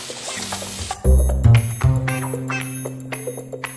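Country style pork ribs hit a hot pan with a sudden loud sizzle that settles into steady crackling frying, with a few clinks of the pan and tongs as the meat sears.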